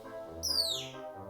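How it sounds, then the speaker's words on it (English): A green bird's chirp, added as a sound effect in a storybook reading of Room on the Broom: one short, bright, rising tweet, clear and fairly soft, with nothing else around it. "there flapped a green bird with a bow in her beak"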